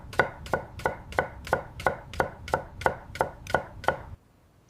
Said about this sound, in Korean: 칼질 소리.